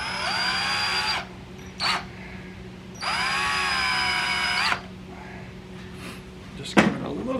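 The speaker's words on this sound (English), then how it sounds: "I'm going to put the drill in reverse." A power drill spinning in reverse to chamfer the top of a hole in a Briggs & Stratton Intek small-engine carburetor: two sustained whining bursts of a few seconds each with a short blip between, then a sharp knock near the end.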